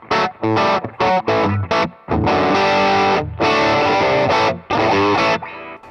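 Electric guitar driven through a Klon overdrive pedal in a Les Paul rig, playing loud distorted chords and riffs in bursts with short gaps, then sustained ringing strummed passages.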